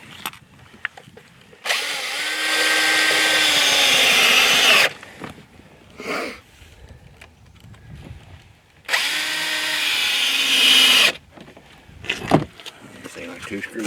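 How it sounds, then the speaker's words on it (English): A power drill drives screws to fasten a 2x4 board onto another board, two sustained whirring bursts of a few seconds each, close and loud, with a person speaking briefly between them. "I'm gonna go ahead and screw it to it"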